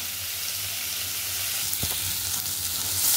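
Cashew nuts frying in a pan for kadai chicken make a loud, continuous close sizzle with a brief stir partway through, no talking.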